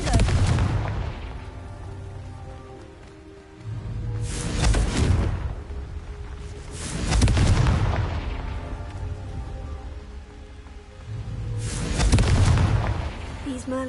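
Confringo spell blasts in Hogwarts Legacy, three big booming explosions a few seconds apart, each swelling and trailing off into a rumbling roar.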